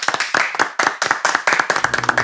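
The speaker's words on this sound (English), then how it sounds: "A round of applause for him." A small classroom group of students clapping to welcome a new teacher, loud uneven bursts of individual claps close by, trailing into a few scattered claps at the end.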